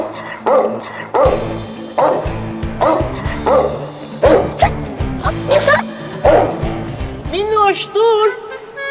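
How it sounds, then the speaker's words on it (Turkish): A dog barks repeatedly in loud, close bursts at an uneven rhythm, ending in higher yelping and whimpering sounds. "Ama o köpek geldi."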